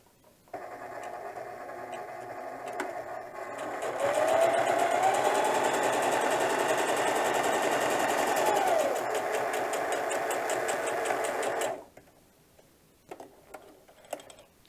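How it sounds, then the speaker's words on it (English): A sewing machine stitches a quarter-inch seam in fabric for a diaper bag tote, a steady whirring hum with rapid needle clatter that speeds up midway, runs about eleven seconds, then stops, followed by faint handling noises. "with a quarter of an inch, I want to sew that up"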